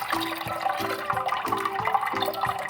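Urad dal rinsed in water while preparing an idli batter, with a steady swishing and sloshing of liquid and a faint repeating tonal hum underneath, close and moderately quiet with no talking.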